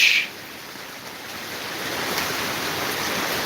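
Wind from Hurricane Nicole rushes steadily on the ocean side of a building, a broad, loud, unbroken roar that swells slightly after a brief louder burst at the start, with no talking.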